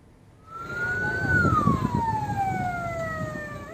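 A fire engine siren in Makassar, Indonesia, swells in from quiet: one long wailing tone that rises, then slides slowly downward, loud and fairly close over traffic rumble.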